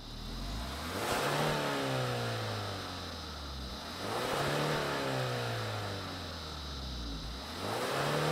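A 2023 Kia Stinger GT-Line sport sedan engine fires up and revs repeatedly, three rising and falling revving sweeps, loud and close, with no talking.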